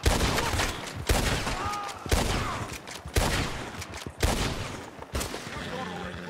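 Gunfire in Red Dead Redemption 2 on PS4, a series of loud, sharp shots spaced about a second apart, each with a short echoing tail, close and dominant.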